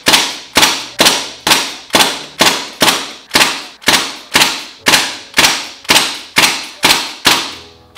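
A Crosman DPMS SBR air rifle fires full auto in a backyard, a rapid string of about fifteen evenly spaced sharp cracks, each with a short decaying tail, close and loud with no talking.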